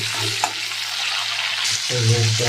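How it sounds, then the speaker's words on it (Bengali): Shrimp and chili frying in a pan, a steady broadband sizzle running throughout with a brief stir near the start and a low hum entering near the end, no talk. "তুলে রেখে দিলে কালো দিয়ে চিংড়ি লঙ্কা ভালো করে ভেজে নেবে।"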